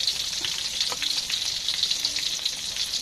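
A large fish head fries in hot oil with a steady, dense sizzle and crackle, close and continuous, with faint clinks of a spoon stirring underneath.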